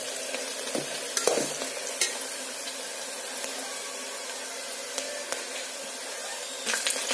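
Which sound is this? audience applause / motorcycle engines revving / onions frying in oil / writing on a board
onions frying in oil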